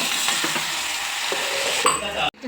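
Guntur chillies hit hot oil in a pan for ash gourd palya. A loud, close, hissing fry crackles steadily, swells briefly, and then cuts off sharply.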